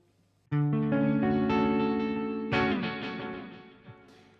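Electric guitar chords ring out drenched in effects from a Line 6 Helix wet signal, a sustained strum followed by a second, brighter strum that fades with lingering echoes.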